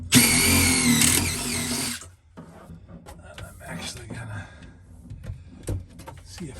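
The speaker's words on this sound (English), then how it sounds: "pre-drilling this hole." A power drill whines loudly for about two seconds while pre-drilling a hole in a bus rib to mount a diesel heater, then stops, followed by softer clatter and handling noises.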